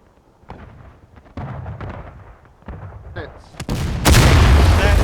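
Artillery shells land in a video game battle as a series of booming impacts, starting faint and distant and growing into loud, close, rumbling blasts, with voices talking underneath.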